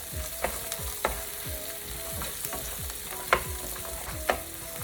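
A sprig of curry leaves frying in ghee for coconut rice, a steady close sizzle with repeated scraping stirs of a spoon in the pan and a few sharper clinks, no voices.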